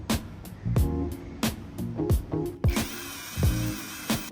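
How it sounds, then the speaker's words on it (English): A power drill bores a rear hook hole into a wooden drawer, with repeated short bursts of whirring and clicking ratchet-like impacts in an uneven rhythm, close up and without talk, ending in a longer sustained whine. "Drill the rear hook hole 7 mm from the side,"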